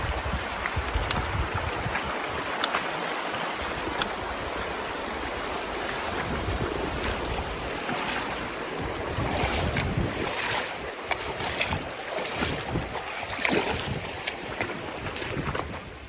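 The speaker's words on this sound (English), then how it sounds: "Now we're just crossing the river over and over and over again." Rushing river water during repeated crossings of a gnarly river strewn with downed trees on the Te Araroa Trail in New Zealand, a steady broadband wash with occasional splashes, close and continuous throughout with no speech.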